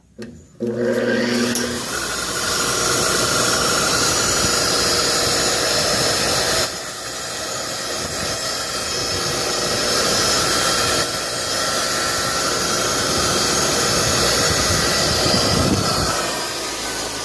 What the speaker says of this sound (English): My grinder, the switch is goofed up on it.